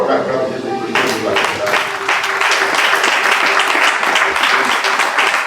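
A church congregation applauds and cheers for Jesus Christ, a dense, steady wave of clapping that swells in at once and keeps going loud throughout, with voices mixed into the crowd.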